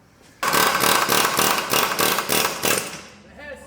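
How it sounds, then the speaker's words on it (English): A loud pneumatic air hammer knocking out car differential bushings rattles rapidly in a sustained burst for about three seconds, pulsing unevenly, then cuts off to a quieter hiss. "Drilling them, air hammering them out."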